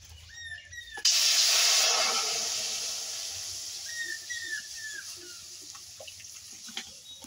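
Water poured into a wok on a stove for boiling green mango: a sudden loud gush that tapers into a fading hiss, followed by faint chirps and small clinks.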